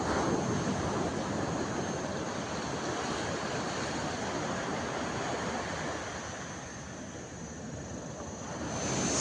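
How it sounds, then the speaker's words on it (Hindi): Strong sea waves surge and break continuously on a beach in Krabi, Thailand, a loud, steady wash of surf filling the whole stretch with no voices. "हालांकि लहरें बहुत तेज़ थी।"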